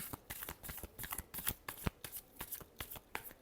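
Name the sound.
shuffling tarot cards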